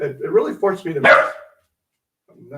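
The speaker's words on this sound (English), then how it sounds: "I'm sorry, that's our dog." A pet dog barks indoors near a house, a sharp loud burst cutting in over a person talking, followed by a brief pause and a faint trailing sound.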